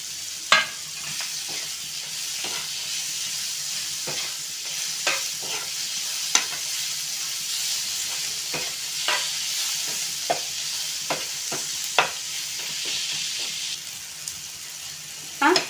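Tomatoes sauté in a pan for chilli paneer, a continuous close sizzling hiss broken by repeated scraping stirs of a spoon against the pan.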